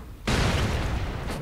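Bomb blowing up in the video game Broforce, a sudden loud broadband blast that starts abruptly and rumbles on for about a second.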